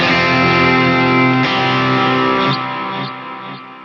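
Washy, heavily effected electric guitar tone from a Quad Cortex worship preset, sustained shimmering chords with distortion and modulation that ring out, then fade in a long smeared tail.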